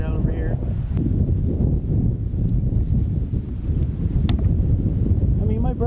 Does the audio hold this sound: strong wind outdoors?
yes